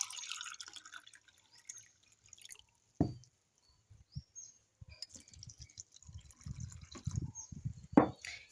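Clean water is poured into a mixture of sugar in a small container. It comes as quiet, intermittent trickles and splashes with short pauses between them.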